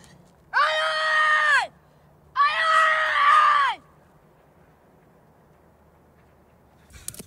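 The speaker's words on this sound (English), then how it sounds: "We see a kid not knowing what to do as he shouts for help" Someone shouts for help in a short film, two long drawn-out cries about a second each separated by a pause, loud and close, then near silence.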